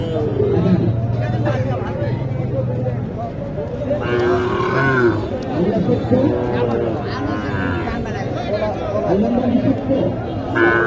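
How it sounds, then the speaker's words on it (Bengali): Sahiwal cattle low at a busy rural cattle market in Naogaon. The moos come several times, loud and close, over constant crowd chatter and people talking nearby. "আমি যেহেতু সাইওয়াল গরুগুলো এখন দেখাবো আপনাদের"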